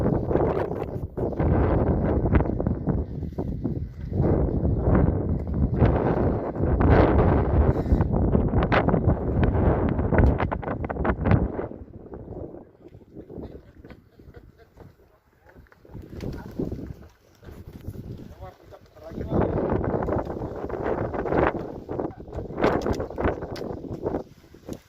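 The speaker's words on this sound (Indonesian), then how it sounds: "Angin semakin kencang masih." Strong wind on the Sindoro mountain trail at Kledung, loud gusts buffeting the microphone in long roaring surges with a calmer lull in the middle before rising again.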